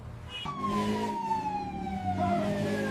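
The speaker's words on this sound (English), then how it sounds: "The siren! We're using the siren!" A police car siren tone sweeps slowly downward over a low vehicle rumble, loud and close, sustained for a few seconds without speech.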